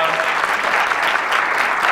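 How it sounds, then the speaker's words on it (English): Sustained applause from an audience at a residency talk, dense and steady clapping filling the whole moment at close range. "Can we give another round of applause?"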